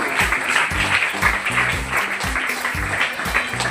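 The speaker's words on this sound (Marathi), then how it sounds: "सगळ्यांनी टाळ्या वाजवायच्या जोरजोरात, कारण दीपक प्रज्वलन होत आहे." Applause from a school gathering during a Vijaya Dashami lamp-lighting ceremony, steady rhythmic clapping from the crowd that stays fairly loud and even throughout, with no talking.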